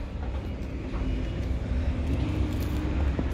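Road traffic rumbles steadily past a two-year-old mule out on a road, a continuous low engine drone of passing cars with no talking.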